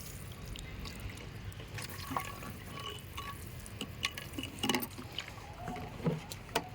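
Water poured over dry soil in a pot in a terrace garden, a close, gentle splashing and trickling with scattered drips as it soaks through, steady and fairly quiet.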